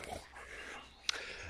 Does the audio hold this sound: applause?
no